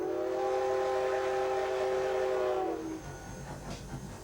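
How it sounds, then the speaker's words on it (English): A White Pass and Yukon narrow-gauge railroad train sounds a long, loud, steady horn or whistle blast lasting nearly three seconds, then cuts off, leaving rumbling train noise. "Today, the White Pass Railroad takes tourists on a narrow-gauge ride to Alaska's past."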